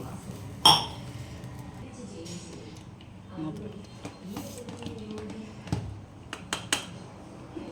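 A metal pot lid clinks sharply against a pot, followed by a few softer taps and rattles, with someone talking throughout.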